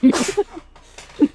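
A single close, sharp sneeze bursts out, followed after a short pause by another brief vocal burst, with a voice nearby.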